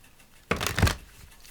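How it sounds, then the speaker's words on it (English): A Moonology tarot card deck being shuffled at close range, one quick riffling burst of crisp papery flutter lasting under half a second against a quiet room. "so we'll pull one card from the Moonology deck. So we'll do a couple shuffles."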